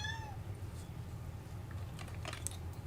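A house cat gives one short, clear meow right at the start, followed by quiet room tone with faint tapping and rustling.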